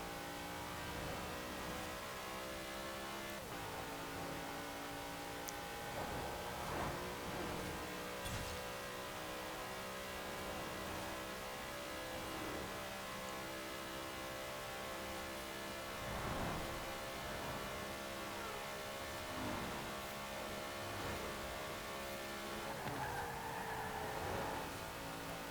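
A 2019 Zenvo TSR-S in Forza Horizon 4 accelerates hard, its engine droning in a steady rising whine with occasional gear-change dips, heard alone at a constant moderate level.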